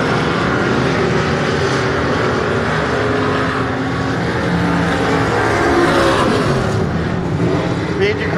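Race cars roar down the back straightaway of an oval track, a loud continuous engine drone that swells slightly as they pass, with a commentator talking over it.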